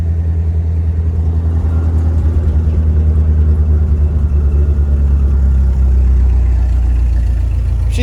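Old-style Ford car engine running right after a fuel filter replacement, a loud, steady low rumble with a slight rise in revs partway through, close up.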